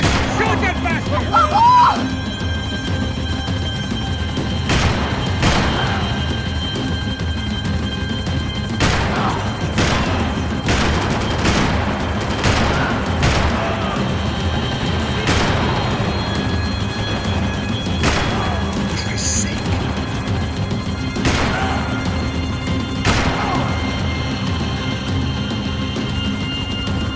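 Gunfire in the Max Payne 3 video game during a vehicle chase, with repeated sharp shots scattered over a dense, loud engine and action rumble while characters shout.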